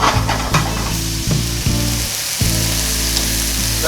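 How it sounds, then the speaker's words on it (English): Chopped tomato and onion sautéing loudly in a skillet for Mexican meatball soup, a dense steady sizzle up close with brief stirring scrapes breaking through now and then. "I put the tomato and the onion in the skillet. We're gonna go ahead and get that sauteed."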